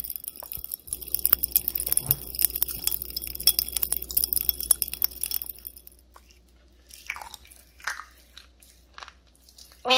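Popping candy crackles and fizzes in dense, rapid pops for several seconds, close up, then fades into quieter scattered snaps and crunches.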